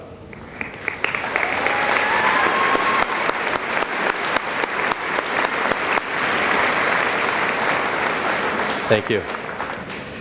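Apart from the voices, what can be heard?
applause at commencement for host parents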